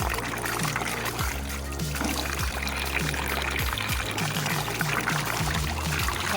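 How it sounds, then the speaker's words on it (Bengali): Water pours and splashes while fresh koi climbing fish are washed in a bowl, a close continuous rushing stream with small knocks and sloshes throughout. "এখন আমি ধুয়ে ফেলবো।"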